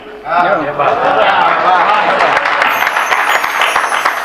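Audience at a Gujarati comedy show bursts into steady applause and clapping that swells quickly and carries on throughout, with a voice talking over the crowd.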